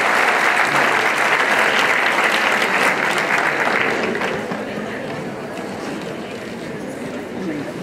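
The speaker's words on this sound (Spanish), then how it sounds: "Fuerte el aplauso para este excelente grupo de sexto C" Loud, sustained applause from a crowd at a school graduation ceremony honoring the sixth-grade morning-shift class, steady at first and then easing to a softer, continuing clapping.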